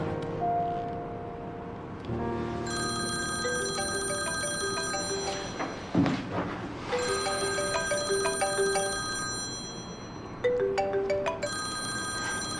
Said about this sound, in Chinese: 温让，你知不知道你这个电话很不合时宜啊？